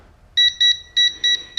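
A Milwaukee voltage tester gives a quick series of sharp, loud electronic beeps, four short bursts in an uneven rhythm against near silence.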